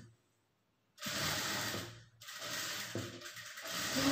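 A sewing machine runs steadily, stitching a lining blouse hem folded half an inch along a single guide, in two loud bursts of whirring with a brief pause between them.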